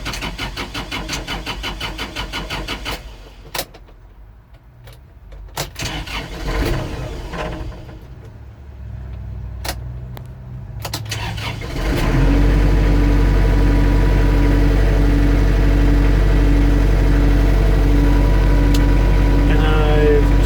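A Kubota L4330 tractor's engine cranks with uneven bursts, catches briefly and dies, then cranks again and settles into a loud, steady running drone for the last several seconds.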